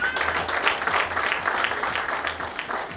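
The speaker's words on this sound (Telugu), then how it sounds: "ఒకసారి బిగ్ క్లాప్స్" An audience at a real estate developer's lucky draw meeting gives a short burst of dense, lively applause. The clapping holds steady for a few seconds in a room.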